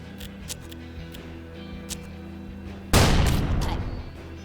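A single gunshot in the Hard West game, one sharp loud crack with a decaying tail, rising out of a quiet background hum.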